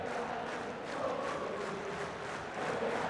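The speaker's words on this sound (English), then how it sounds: "The crowd absolutely delirious at that end." A large football stadium crowd roars and cheers at a Manchester United versus Spurs match, a steady, distant wall of voices lasting throughout.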